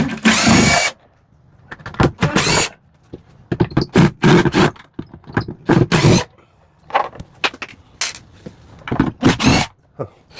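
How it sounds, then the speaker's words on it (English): A power drill whirs in repeated short bursts, starting and stopping irregularly as screws are backed out of an RV air conditioner, close and loud with quiet gaps between. "So let me grab my drill and get that down."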